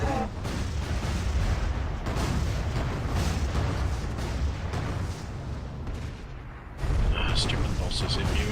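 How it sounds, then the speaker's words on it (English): Mortar fire in the video game ArcheAge during a boss fight, with firework-like effects: a dense, continuous barrage of booms and crackling blasts under people talking over it. "Yeah, but mortars can do damage."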